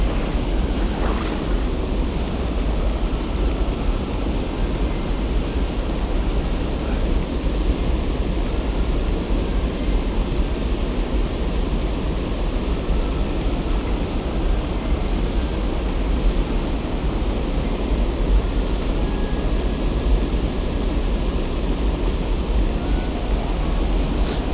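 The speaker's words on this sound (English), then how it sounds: "We have the cascades coming down, sort of shooting the water out almost directly towards us here." Cascades on the Hop River in Connecticut rush down and shoot water outward, a steady, loud broadband roar of churning whitewater close by that stays constant throughout, with no talking.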